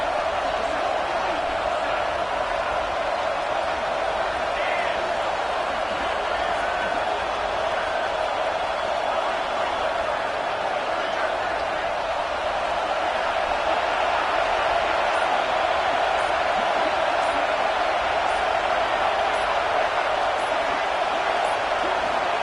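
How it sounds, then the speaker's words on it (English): A football stadium crowd roars steadily through a fourth-quarter defensive stand, a dense, sustained wall of cheering that never drops away, while a broadcast announcer's voice sits on top of the noise. "Listen to this crowd just shaking the girders of this place, trying to help their defense."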